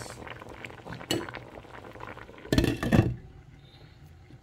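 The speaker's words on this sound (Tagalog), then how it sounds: "nagbula na ng malakas" Blue crab simmering in coconut milk in a covered pot boils vigorously with a steady bubbling wash, broken by a couple of louder clinking bursts near the middle.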